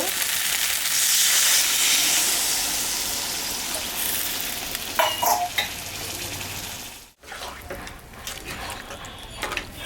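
A little water hits a hot frying pan during cooking of a rohu fish-head muriganto with rice, and a loud, hissing sizzle bursts out. It slowly eases, cuts off for a moment, then carries on with a few faint utensil clinks.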